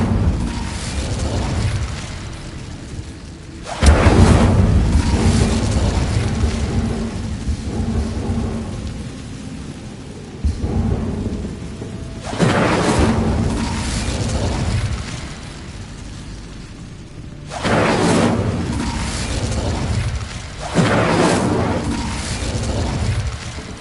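Fire spell bursts in the video game Hogwarts Legacy, loud rumbling whooshes and crackling roars that swell and fade in several long waves, with a steady rain-like hiss between them.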